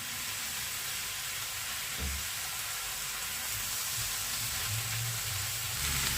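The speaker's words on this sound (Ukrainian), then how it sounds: "гриби зараз віддадуть свій сік. І нам потрібно, щоб цей сік випарувався і грибочки почали рум'янитись" Champignon mushrooms frying in a pan with new potatoes, a steady, even sizzle and hiss with no breaks or voices.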